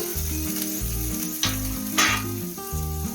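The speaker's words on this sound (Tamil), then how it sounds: "முந்திரி, இஞ்சி, பூண்டு, வெங்காயம் எல்லாமே வதக்க போகிறோம்." Cashews, ginger, garlic and onion sauté in a hot pan for paneer butter masala. A constant close sizzle carries a couple of brief louder bursts from stirring, with background music playing throughout.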